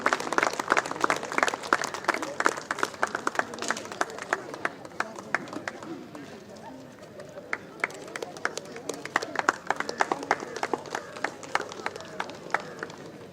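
A crowd applauds at an outdoor environmental run event with juggling, sharp individual claps standing out over a busy, fluctuating wash of clapping that dips midway and swells again, steady throughout.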